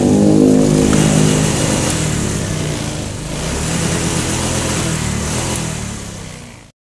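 A Honda Vario scooter engine with a sputtering, fuel-hesitation fault revs hard up close as the throttle is tested, a loud continuous roar that dips and rises before cutting off.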